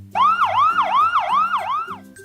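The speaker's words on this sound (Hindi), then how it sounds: "क्या आपने कभी एम्बुलेंस का सायरन सुना है?" An ambulance siren, likely from a toy, wails in a fast, loud, repeating up-and-down sweep, about four cycles in a row, close and clear with no talk over it.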